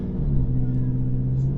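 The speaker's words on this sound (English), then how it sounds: "Yeah, park the car. Yeah, stop the car." A car engine idles in a video game, a steady low rumbling hum with a faint tonal drone, fairly close and continuous.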